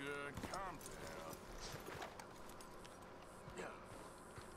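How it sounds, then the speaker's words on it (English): A horse's hooves in Red Dead Redemption 2 clop lightly beneath people talking, with faint movement and shuffling in the background. "Careful with that horse, Arthur."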